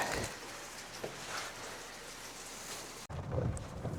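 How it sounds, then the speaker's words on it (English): Steady rain falls outside a house during a storm that brought a blackout, a constant hiss heard from nearby with no talking, briefly cut off near the end before resuming with a deeper wash. "it did start raining again"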